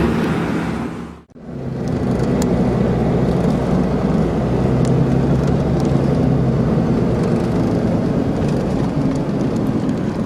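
A car climbing the mountain road toward Volcán Barú in Panama, heard from inside as a steady, dense rush of engine and road noise that briefly dips near the start, then holds constant.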